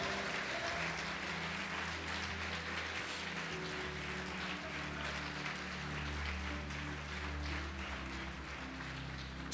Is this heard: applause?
yes